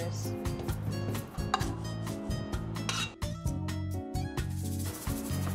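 Bosch MaxxiMUM food processor chopping onions, a steady motor hum with repeated chopping and rasping as the blade works through the pieces, close and clear, with no talk.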